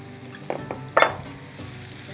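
Chopped onions and garlic sauté in a hot pan, a steady soft sizzle with a couple of brief louder stirring scrapes, close and uninterrupted by talk.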